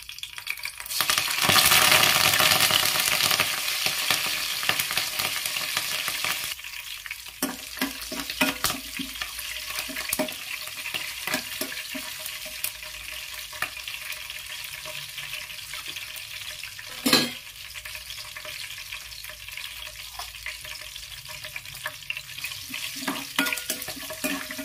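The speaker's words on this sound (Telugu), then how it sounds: "దీనిలో ఇప్పుడు మనం కోసుకొచ్చినటువంటి కరివేపాకు ఉంది కదా అది కూడా వేసేస్తున్నాము." Curry leaves dropped into hot oil in a pan set off a loud burst of sizzling that settles into steady frying, with occasional stirring clicks and scrapes throughout.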